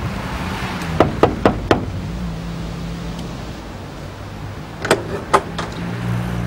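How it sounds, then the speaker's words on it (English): Knocking on a door during a police drama scene, a quick series of four sharp knocks followed later by another group of three, set against steady low background hum. "Go on then, knock on the door."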